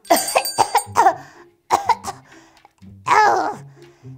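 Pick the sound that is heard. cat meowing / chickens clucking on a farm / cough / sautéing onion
cough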